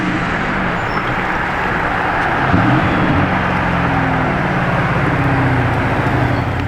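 A Lamborghini Urus passes by on a road, a loud, steady roar of engine and tyre noise that swells slightly midway and holds with no voices.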